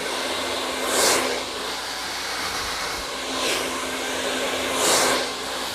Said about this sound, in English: Blow dry.